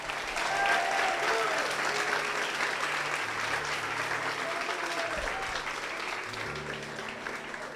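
A church congregation at an anniversary service applauds steadily and at length, a broad wash of clapping with voices mixed in beneath it.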